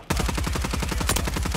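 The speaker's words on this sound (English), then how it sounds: "They're shooting down from the top of the buildings" Rapid bursts of automatic gunfire from enemies firing down from rooftops in a Call of Duty battle, a loud, dense, continuous rattle of shots with no pauses.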